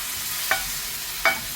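Crushed tomato stirred into a frying egg curry base in a pan, with a steady sizzle and two brief spoon scrapes, close up.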